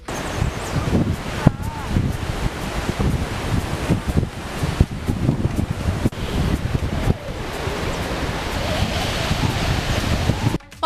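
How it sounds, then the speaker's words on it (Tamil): The flooded Suranganaru waterfall near Gudalur in Theni district sends down a heavy, steady, loud roar of rushing water that fills the whole scene, buffeted by wind on the microphone. "கூடலூர் பகுதியில் உள்ள சுரங்கனாறு அருவியில் வெள்ளப்பெருக்கு ஏற்பட்டு அதிகப்படியான தண்ணீர் கொட்டுகிறது"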